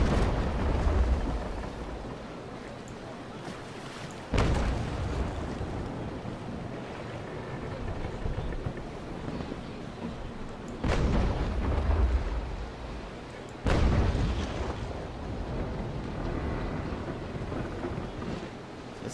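Naval Action cannon fire at sea: several heavy booming blasts, spaced seconds apart, over a constant rumble of wind and waves, with no voices.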